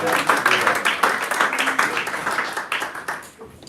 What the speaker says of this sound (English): Give them a round of applause there